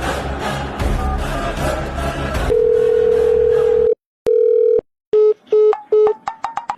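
A steady telephone dial tone hums loudly, then breaks into a series of short beeping tones as a number is dialed on a phone, with background chatter and noise fading out just before.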